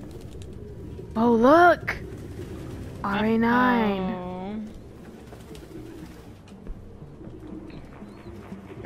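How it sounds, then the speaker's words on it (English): Pigeons cooing in the video game Detroit: Become Human, two bursts of warbling coos close by, the second longer, with a voice speaking briefly over a low background hum. "Ah, so many pigeons! So many pigeons!"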